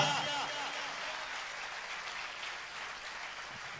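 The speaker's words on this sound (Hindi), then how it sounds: "जोरदार ताली उस परमेश्वर के लिए।" Congregation applause at a Christian church gathering, a dense wash of many hands clapping that starts loud and tails off slightly, continuing steadily throughout.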